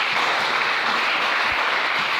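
A church congregation claps and cheers to acclaim the Lord, a steady, dense burst of applause filling the room.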